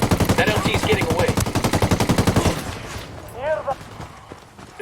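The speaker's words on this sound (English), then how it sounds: "Opening fire." Rapid automatic gunfire in Ghost Recon Wildlands, a loud, steady burst of evenly spaced shots lasting a few seconds, then breaking off into quieter shouts and chatter.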